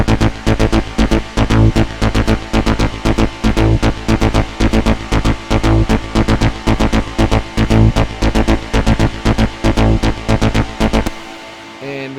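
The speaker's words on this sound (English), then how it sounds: "I'm just making a simple bass sound that sounds like this." A deep synthesizer bass line pulses in a steady, driving rhythm, loud and continuous for about eleven seconds before cutting off.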